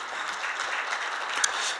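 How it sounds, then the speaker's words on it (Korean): Audience applause at a retail industry forum session in 2015, a steady dense patter of clapping from a seated crowd, moderately loud and continuous through the short stretch with no voices over it. "다시 한번 박수 부탁드리겠습니다."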